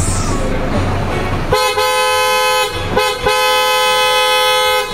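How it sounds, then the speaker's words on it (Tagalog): PIAA horns fitted to an Isuzu D-Max pickup blare in two loud, close, sustained toots, the second after a brief break, following a stretch of rumbling engine noise. "I-test natin ang horn ni sir mga kaibigan. Parinig natin kung gaano kalakas."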